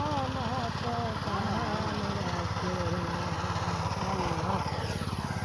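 A heavy rice-harvesting machine's engine runs steadily and loudly up close, a continuous droning rumble, with people talking over it.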